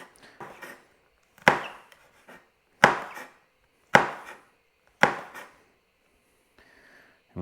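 A knife cuts a relatively large chilli into fine slices on a board, five sharp distinct chops spaced about a second apart with lighter taps between, close and clear with no talk.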